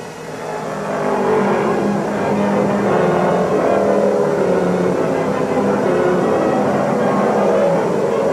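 A 1968 stock race car at the Atlanta track rumbles into the pits, its engine a steady, moderately loud drone with a crowd-like wash of noise behind it.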